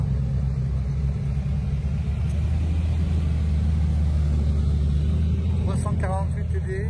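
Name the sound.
Chevrolet Camaro engine roaring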